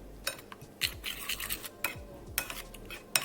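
A spoon stirs grated beetroot into yogurt for raita, scraping and clinking against the bowl in repeated quick strokes, close and clear, with no talk.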